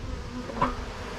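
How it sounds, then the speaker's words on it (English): Bees hum inside a hive crack in a brief, close, continuous buzz with one small rise partway through. "Smoke these bees out of this crack."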